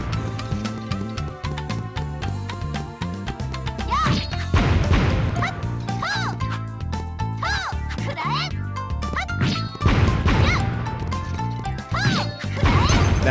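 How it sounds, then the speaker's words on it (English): Sword slashes from Mystical Ninja Starring Goemon, a Nintendo 64 game, hit as sharp repeated crashes and swishes over busy game music and sound effects, with a voice talking underneath. "that's always going to be satisfying, that slicing sound"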